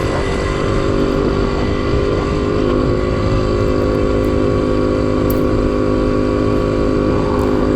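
A Yamaha RC100 two-stroke motorcycle ridden slowly on an evening ride, fitted with a 57 mm bore kit and a 32-tooth rear sprocket. Its engine drones loud and close the whole time, steady and without talk.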